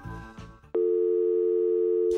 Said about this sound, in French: Je vais essayer d'appeler quelqu'un.